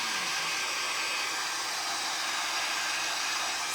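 A hair dryer runs continuously at close range, making a loud, steady broadband whoosh with no talk over it.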